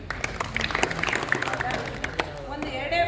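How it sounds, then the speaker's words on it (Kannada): Audience at a traffic rules awareness program applauding, a spread of scattered claps rising into fuller clapping near the end, heard alongside a speaker's voice. "ನಿಮಗೂ ನಾವು ಚಪ್ಪಾಳೆ ಹೊಡಿತೀವಿ"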